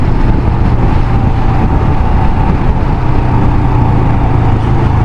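A 2023 Royal Enfield Himalayan motorcycle underway without its screen extender, giving a steady, loud roar of engine and wind rush that holds constant throughout with no talk.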